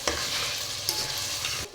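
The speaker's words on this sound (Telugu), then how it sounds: "ఈ ఉల్లిపాయ, అల్లం వెల్లుల్లిపాయ పేస్ట్ అయితే వేగాలి కదా" Onion, ginger and garlic paste frying in a pan for a chicken and potato gravy curry, stirred steadily with a loud, continuous sizzle and scraping all the way through, with no voices.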